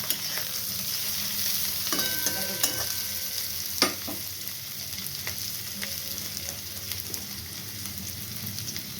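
Cauliflower stalks fry in a pan while being stirred, an even sizzle broken by a few sharp utensil scrapes and knocks around the middle, with no speech.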